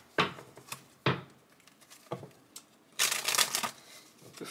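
Tarot cards are handled in a few sharp slaps and riffles, ending in a longer, denser shuffle, all close and fairly quiet.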